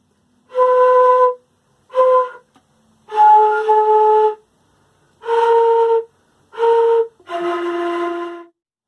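A woodwind plays the opening phrase of Silent Night as six clear, separate notes in a slow rhythm, with short gaps between them, solo and close.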